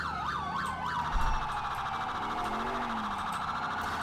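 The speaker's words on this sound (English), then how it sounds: "So yeah, let me know what you guys think of the siren." A police siren on a 2015 Tahoe in GTA IV opens with quick, rising-and-falling yelps, then settles into a steady, piercing wail. It is loud and continuous, with a faint engine rumble underneath.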